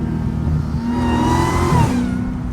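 A Dodge Hellcat's engine revs loudly and continuously, the pitch climbing and falling under heavy throttle with a deep, rough roar throughout and no talk.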